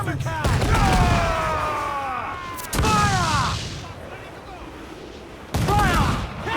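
Ship cannons fire a broadside in the naval combat of Assassin's Creed IV: Black Flag, three booming volleys that crack and roll off while crew voices shout orders over the gunfire.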